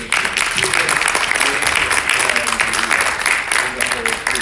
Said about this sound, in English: just to ask for a round of applause again for Mr.